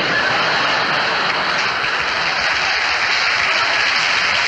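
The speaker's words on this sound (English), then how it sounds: "Would the people in the cheaper seats clap your hands?" A dense, steady wash of applause from a concert audience, loud and continuous throughout with no breaks.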